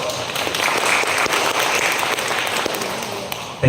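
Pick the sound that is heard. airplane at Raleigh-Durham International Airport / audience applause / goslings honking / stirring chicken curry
audience applause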